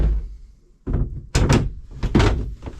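A shower curtain being pulled closed inside a Caravelair Sublim 510 caravan, heard as a few close, loud thumps and rustles in quick succession, without speech.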